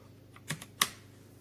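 Typing on a Redragon K556 mechanical keyboard with brown switches, heard as a few sparse, close keystrokes, two or three clicky taps, in a quiet room with no talking.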